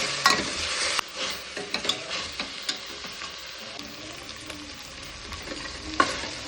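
Ginger garlic paste and cloves frying in a pan, a dense close sizzle broken by repeated clacking stirs and scrapes of a spoon, with no voices.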